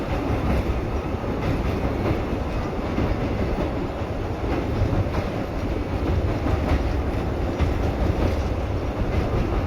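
A train crosses the new electrified Pamban sea railway bridge with a steady, close rumble and faint rhythmic clatter of wheels on rails, sustained and unbroken from start to finish.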